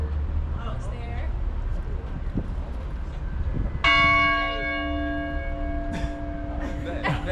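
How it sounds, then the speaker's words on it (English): A University of Georgia chapel bell strikes once loudly midway, ringing out with a long sustained tone that slowly fades, while people talk outdoors before and after. "they ring this bell every time there's any good news"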